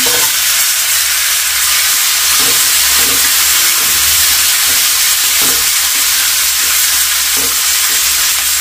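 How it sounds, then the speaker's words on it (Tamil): Garlic and onion sauté in a pan with a loud, continuous sizzle, punctuated by soft stirring scrapes at irregular intervals, with no voices. "வெள்ளைப்பூடு, வெங்காயம் லைட்டா வதங்கிட்டு இருக்கு."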